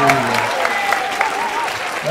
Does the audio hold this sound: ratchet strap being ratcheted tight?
no